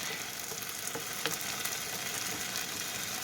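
Eggs sizzle in hot oil in a skillet beside fried rice with chicken, a steady, loud, close frying hiss with faint stirring scrapes throughout and no talking.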